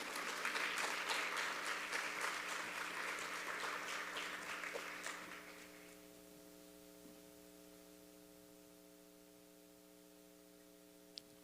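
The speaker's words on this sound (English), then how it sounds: "Y'all can applaud again." An audience applauds with steady clapping that fades out after about five seconds, leaving a quiet electrical hum.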